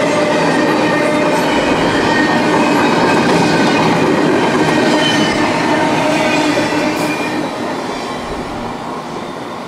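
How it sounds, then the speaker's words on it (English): A CSX intermodal freight train, symbol I-168, rumbles steadily past at close range, its wheels clattering in a continuous loud roar that eases slightly toward the end, with no voices. "Symbol on that train is CSX I-168."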